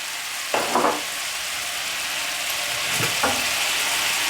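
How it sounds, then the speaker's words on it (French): Candied apples caramelizing over medium heat in a hot frying pan, a steady soft sizzle with two brief stirring or scraping bursts, close and alone without talk. "Je vais les verser directement dans ma poêle pour les caraméliser."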